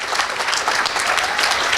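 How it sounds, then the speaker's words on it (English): Indoor audience applause at a University of Maryland hotel event, a loud, dense, sustained patter of many hands clapping, with no speech over it. "Can we give her a round of applause?"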